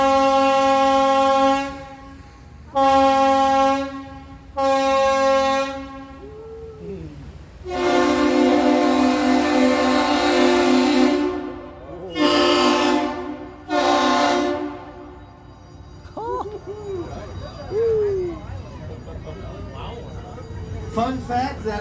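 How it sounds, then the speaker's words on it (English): A loud ship horn sounds one long blast followed by two short ones as a salute, then the bridge answers with the same pattern; afterwards faint voices and background noise remain. "single long blast followed by two short blasts, to which the bridge is going to reply to"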